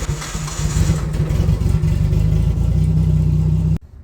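Nissan Skyline R33 engine held at steady revs, bouncing against a limiter with a fast stuttering pulse, loud and close for several seconds before cutting off abruptly.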